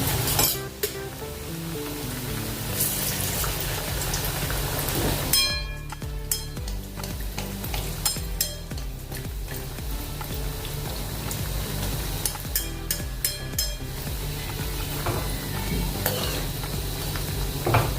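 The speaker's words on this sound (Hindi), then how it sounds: "अभी हम अपना समोसा तलेंगे। गैस मीडियम करके इसको तलना है।" Samosas made with wheat-flour dough frying in hot oil over a medium gas flame, giving a steady close sizzle with occasional clinks and stirring scrapes of a utensil against the pan.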